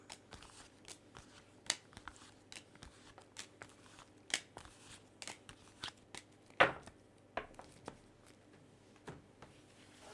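Tarot cards being shuffled up close and quietly, a run of soft irregular riffles and taps with one sharper snap near the middle, no voices.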